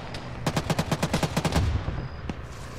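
A machine gun in an Arma combat scenario fires a rapid burst of about a dozen evenly spaced, loud shots, followed by a single later shot and fading echo.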